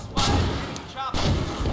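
Missiles from a mobile anti-aircraft vehicle in Battlefield 4, on the Zavod 311 map in Conquest mode, strike targets beyond the hills with two heavy, booming thuds about a second apart.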